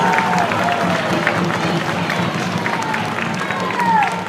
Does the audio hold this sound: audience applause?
yes